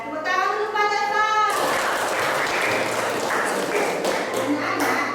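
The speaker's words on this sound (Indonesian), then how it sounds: "tepuk tangan dulu Pak Eva." After a short spoken phrase, a classroom of children breaks into lively clapping that continues steadily to the end, with a few voices mixed in.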